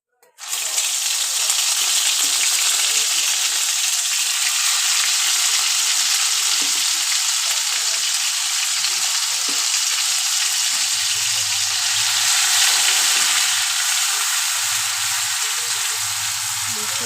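Spices and onions fry in hot oil in a pan for a spicy egg peyaji, a loud, steady sizzle with occasional stirring scrapes, running unbroken for the whole stretch without talking.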